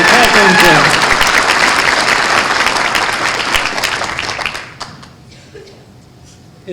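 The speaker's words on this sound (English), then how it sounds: "Can we get one more round of applause for a hero of mine" Audience applause at a community celebration breakfast, a dense round of clapping mixed with cheering voices that carries strongly for about four and a half seconds, then cuts off to near quiet with a few scattered claps.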